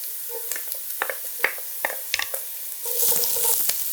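Two cloves of freshly minced garlic hitting a hot pan with thyme for a mushroom stroganoff: sharp close sizzle bursts with stirring scrapes and clicks, swelling into a steady hiss toward the end.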